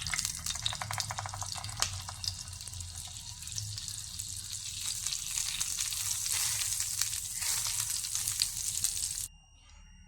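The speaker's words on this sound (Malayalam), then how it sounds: "ഇനി ഒരു പാൻ ചൂടാകുമ്പോൾ അതിലേക്ക് 1 സ്പൂൺ വെളിച്ചെണ്ണ ഒഴിച്ചു കൊടുക്കാം. 1 പീസ് ബട്ടർ കൂടി ഇട്ട് കൊടുക്കാം." Coconut oil and a piece of butter sizzle in a hot pan with a steady, close, bright crackle and hiss that holds throughout before stopping abruptly near the end.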